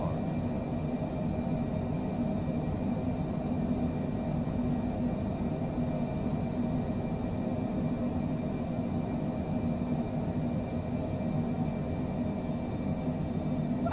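An airliner taking off in a flight simulator game, heard as a steady, even engine roar and rumble that holds at constant loudness without a break, with no voices.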